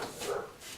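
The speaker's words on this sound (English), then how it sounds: "The dog hears someone, intruder, which is good" A dog gives a short, muffled bark or yip somewhere in a workshop where nylon washers are being made, a single quick sound at moderate distance.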